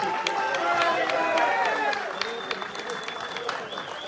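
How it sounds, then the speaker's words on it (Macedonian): A crowd applauds and cheers loudly at a football club's jubilee ceremony in Kočani, North Macedonia, with scattered claps and voices mixed in the steady roar. "Посебен аплауз толку за."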